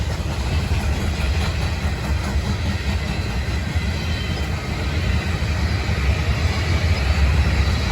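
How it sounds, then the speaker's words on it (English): A grain train rolls steadily past at trackside in Kenova, West Virginia, a loud continuous rumble with faint wheel clatter and no voices, cutting off without a pause. "I love these grain trains."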